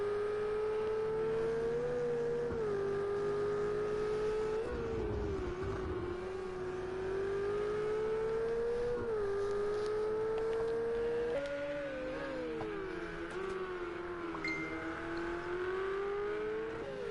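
Ferrari race cars at Circuit of the Americas holding a loud, steady engine howl that rises and falls with shifts and throttle changes, several cars overlapping with a brief dip mid-lap and no talk over it.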